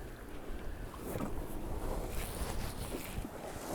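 A sailboat slices through calm open sea on a beam reach in light wind, a steady wash of water and soft wind rushing past the hull, with no voices.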